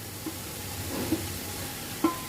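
Drumstick leaves stir-roasting in a kadhai, a quiet continuous frying hiss with a couple of faint spatula scrapes and taps.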